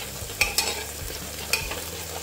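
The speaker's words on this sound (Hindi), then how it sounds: "देखिए अब इसमें चॉप जिंजर और ग्रेटेड गार्लिक जाएगी, इसको अच्छे से थोड़ा सा इसके साथ सॉटे कर लेंगे प्याज के साथ।" Chopped ginger and grated garlic being sautéed with onions in a pot for vegetable pulao, with a soft frying sizzle under a few sharp scraping stirs of a spoon against the pan.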